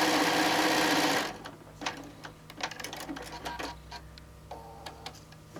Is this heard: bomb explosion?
no